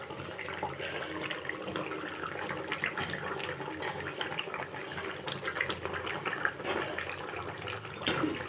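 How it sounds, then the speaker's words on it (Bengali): Water pours steadily into a pan of simmering fish curry with potato, aubergine and peas, a continuous close splashing and bubbling hiss throughout with no voices. "এখন দিয়ে দেবো পরিমাণ মতো জল।"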